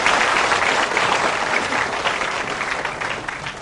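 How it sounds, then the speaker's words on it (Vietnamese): Audience applause at a Vietnamese comedy stage show fills the room, steady dense clapping from a sizable crowd, loud and continuous throughout with no voices. "Xin một tràng vỗ tay thật lớn."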